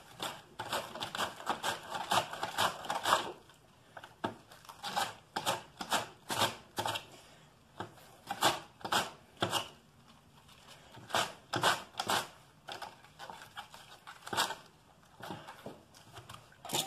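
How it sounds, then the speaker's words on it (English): Cabbage heads shredded on a hand planer for homemade sauerkraut, giving repeated rhythmic rasping strokes, dense at first, then coming as separate quick swipes with short pauses between them, close and with no talking. "Planing the cabbage."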